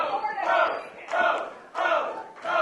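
Wrestling crowd cheering and chanting in loud, rhythmic bursts, rising and falling in repeated waves.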